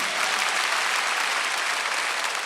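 A church congregation at a Wednesday worship service claps in a loud, dense, steady burst that fills the room with no speech over it.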